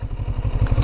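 A CFMOTO Adventura 650 motorcycle engine is opened up, giving a close, steady low throbbing pulse during a brief stretch of acceleration.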